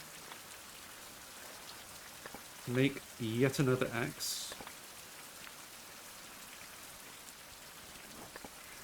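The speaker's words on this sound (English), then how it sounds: "And it's raining again." Steady rain patters on surfaces throughout a survival video game scene, a constant soft hiss with scattered drops, while someone speaks briefly over it midway.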